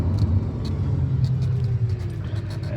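A 1995 Mercedes E300 with an OM606 diesel engine drives along with a steady, loud low rumble. Faint higher ticks and a gradual pitch drift suggest a firm gear change mid-run, with no talk.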